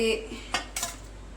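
Syrup-soaked watermelon rind ladled from a pot into three small bowls, with two clear clinks of a ladle or spoon against the dishes, close and fairly quiet, and no one talking.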